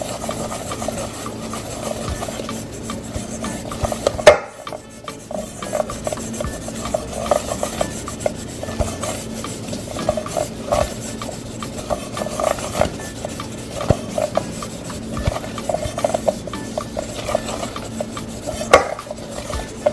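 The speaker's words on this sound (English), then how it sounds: "With a brush or glove hand, you can use some butter and grease your pan." Butter brushed onto a cake pan with a pastry brush: close, repeated rasping strokes scrubbing across the metal in an uneven rhythm, with no voices.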